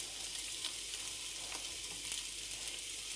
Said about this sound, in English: So I'm just going to put it in the fry pan